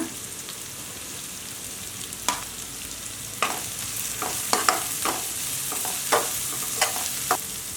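Sliced onion and spring onion stir-frying in a pan for street-style vegetable fried rice, a soft continuous sizzle broken by a series of sharp scraping stirs, close and clear with no talking.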